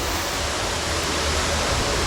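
A river flows at Dandeli, its steady broadband rush of water filling the space evenly and loudly, with no voices over it.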